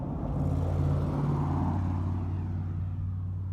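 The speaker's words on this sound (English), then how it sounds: "Now he's got a truck coming behind him." A truck drives past on a road in the rain behind a horse during a training session, a steady low engine rumble and tire roar that stays fairly even, with no speech.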